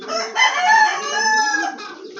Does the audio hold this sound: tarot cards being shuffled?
no